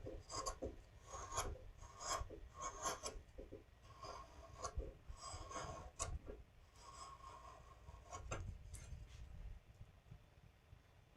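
A chisel scrapes and shaves wood in quiet, uneven strokes, with small taps and rasping cuts close by.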